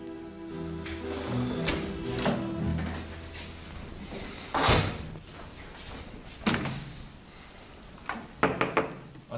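Door knocks and bangs indoors in a dubbed Turkish drama, several sharp hits spaced across the scene over soft background music, with no talk.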